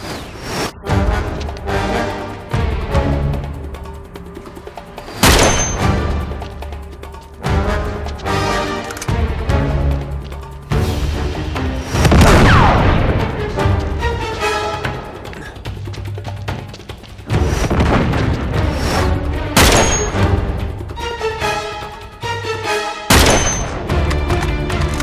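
Gunfire in the video game Uncharted 3: Drake's Deception, in The Citadel level: loud, repeated shots and booming impacts in irregular bursts, with brief lulls between volleys and a dense in-game mix of effects throughout.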